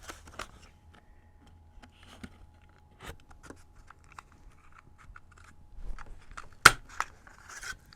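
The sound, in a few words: butterfly craft punch cutting paper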